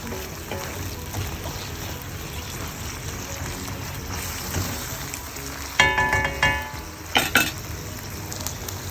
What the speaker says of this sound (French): là j'ai mis mes nouilles et on va tout remuer